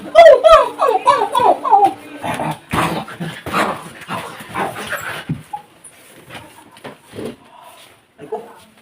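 Dog barks in a quick rhythmic burst at the start, loud and close, then gives way to someone talking over faint background noise.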